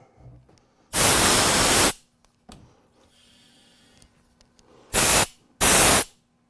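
Gas hissing from a stop valve that won't close: loud, close, broadband bursts, one lasting about a second and then two shorter blasts a moment later, separated by quiet gaps.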